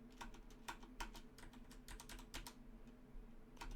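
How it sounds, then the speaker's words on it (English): Keys clack on a mechanical keyboard in quick irregular bursts of typing, crisp and close but recorded at a very low level, with no voices over it. "Oh, you're gonna love the sounds of my mechanical keyboard."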